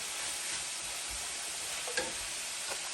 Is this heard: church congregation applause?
no